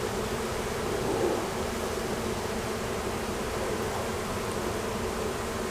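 A dense, steady buzz of many honeybees from a fallen colony being transferred from a swarm trap surrounds the listener, close and constant, like standing inside a busy swarm.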